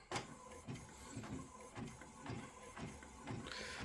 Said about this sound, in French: Donc on imprime avec du noir.